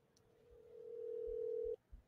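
Telephone call tone from a speakerphone, a single long steady ringback tone swelling louder for about a second and a half before cutting off, with quiet room noise around it.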